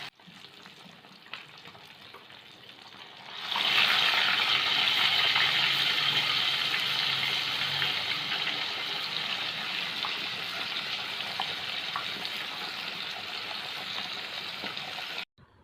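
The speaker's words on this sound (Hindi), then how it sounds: "और इधर हम बाकी की फ़िश फ्राई कर रहे हैं साथ साथ।" Whole fish fry in hot oil in a home kitchen, cooked in the Hindi style: a loud, steady sizzle bursts in after a few quiet seconds and holds evenly with no talking.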